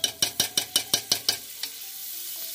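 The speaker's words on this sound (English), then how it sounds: "Oh yeah, look at that sizzle. You know that pan is good and hot." Real butter hits hot oil in a frying pan, giving a string of sharp crackling bursts in quick rhythm that fade into a soft steady sizzle.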